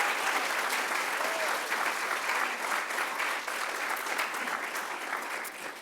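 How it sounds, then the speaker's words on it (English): An honors day audience applauds in a hall, a thick, even roar of many clapping hands sustained throughout at close range, with no words spoken over it. "And their families, another round of applause."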